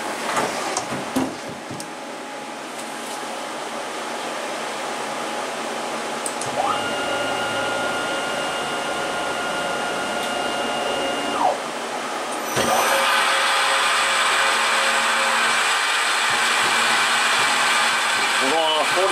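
A PM727M milling machine running an adaptive clearing cut, a sustained whirring spindle drone with steady cutting noise that shifts in tone partway through and grows louder and harsher near the end, close up with no clear talk.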